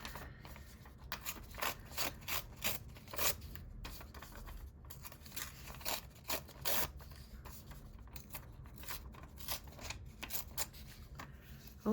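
Paper being torn by hand for a junk journal lettering collage, with a quick series of sharp rips and crinkly rustles spaced unevenly across the stretch, close and fairly quiet, with no talking.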